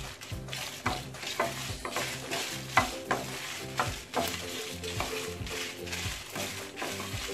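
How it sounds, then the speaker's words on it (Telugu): Coriander seeds and fenugreek fried in a pan, a continuous close sizzle with rhythmic stirring and scraping strokes and small rattles of the seeds against the metal, no talking. "కొంచెం ధనియాలు, అలానే కొంచెం మెంతులు వేసి బాగా ఫ్రై చేసుకోవాలి"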